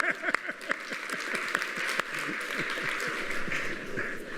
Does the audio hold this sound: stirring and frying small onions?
no